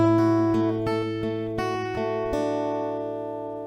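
Acoustic guitar picking the G section of the melody, single ringing notes plucked at a steady pace, about six distinct attacks over sustained strings, close and clear with no voice.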